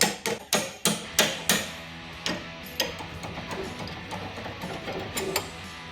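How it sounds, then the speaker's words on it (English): Hammer blows knocking the factory bolt out of a Jeep WJ upper control arm, a run of sharp metallic strikes, loud and close, evenly spaced at first and then lighter, scattered taps with a faint ringing between them. "hammer for removal of your factory bolt"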